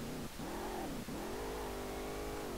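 Racing-game car engine on the Okutama drifting map in SLRR, a steady mid-pitched drone that dips briefly twice and then climbs slowly in pitch as it revs, loud and continuous with no talking.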